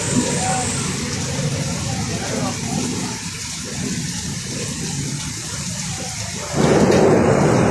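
Heavy rain pours in Kolkata with rumbling thunder, a loud dense roar that swells sharply louder near the end, with a voice speaking over it.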